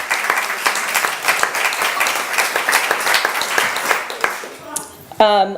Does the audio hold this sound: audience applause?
yes